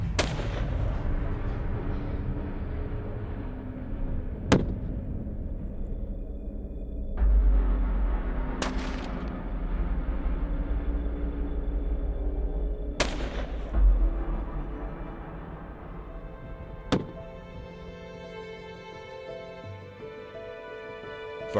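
Rifle shots fired at non-dangerous plains game of roughly 10 to 500 pounds ring out one at a time at irregular intervals, each a sharp loud crack with a long echoing tail. Faint music runs underneath.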